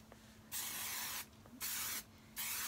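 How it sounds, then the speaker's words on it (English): Three sharp hissing bursts of TIGI Catwalk hot iron hair spray from an aerosol can, each lasting under a second, separated by brief quiet pauses, close by. "So I use a hot iron spray."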